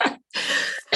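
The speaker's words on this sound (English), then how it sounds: "I'm muted and I'm coughing sometimes" A person with a cold coughs several times in close, harsh bursts separated by short pauses, heard up close and alone.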